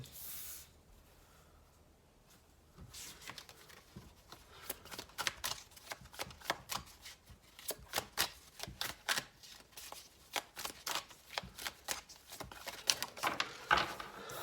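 Tarot cards are handled and slid back into the deck, making a run of quick papery flicks, riffles and soft slaps close up. It starts quiet and grows busier and denser over the second half.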